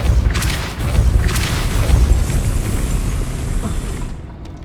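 A Depulso force spell blasts in Hogwarts Legacy, a loud booming low rumble that sustains for about four seconds before cutting off, with a few brief brighter crackles near the start and no talking.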